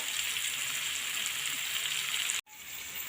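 Steady sizzle of chopped bitter gourd, ginger, onion and curry leaves sautéing in a hot pan, continuous and fairly faint, with a brief dropout near the end.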